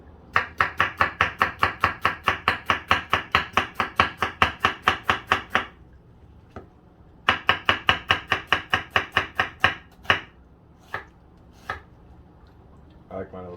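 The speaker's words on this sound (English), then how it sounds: "So here I'm gonna julienne some onion really quick." A knife julienning an onion on a cutting board makes rapid, even, close chopping taps in a long run, then a pause, then a second quick burst trailing off into a few scattered cuts.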